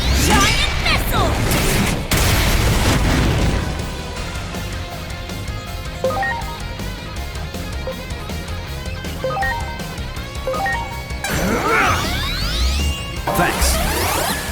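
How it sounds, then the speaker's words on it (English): Giant missile explosion in the video game Digimon Story: Time Stranger, with loud whooshing sweeps, crashing booms and impact bursts layered over game music, swelling again near the end. "Giant missile!"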